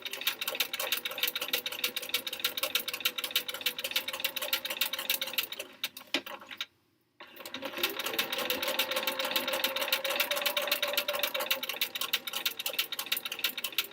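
A sewing machine stitches quilt block pieces for a sampler quilt, running in a fast, steady mechanical rattle that stops briefly for a second before resuming, close and unaccompanied by talk.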